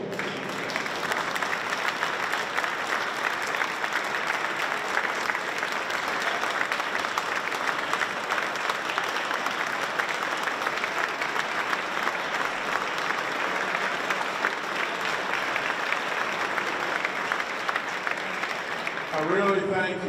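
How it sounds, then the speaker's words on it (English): An audience in a hall gives sustained applause and a standing ovation during a state governor's address on energy, a dense, even roar of clapping with a faint voice near the end. "I thank you for your applause"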